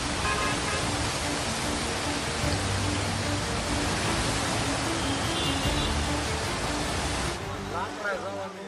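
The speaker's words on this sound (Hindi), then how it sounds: "शिवघाट के पास सड़क पर पहाड़ियों से पानी गिरने का भी वीडियो सामने आया" Heavy rushing water from the hills pours continuously onto a road in a loud broadband roar, like runoff cascading onto pavement during monsoon rain, easing slightly toward the end.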